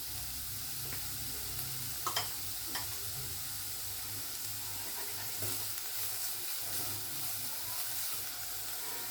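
Capsicum sizzles in a pan for Indian-style masala macaroni pasta, a steady hiss of frying with a few soft clicks of stirring, close and unbroken, with no one speaking.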